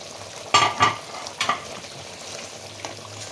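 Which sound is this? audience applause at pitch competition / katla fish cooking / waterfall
katla fish cooking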